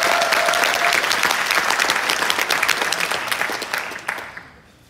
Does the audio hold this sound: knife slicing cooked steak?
no